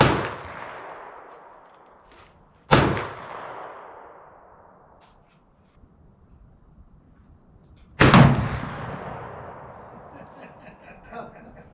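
Three sharp, loud shots from a 20 gauge shotgun firing copper sabot slugs at an outdoor range, spaced several seconds apart, each with a long decaying echo.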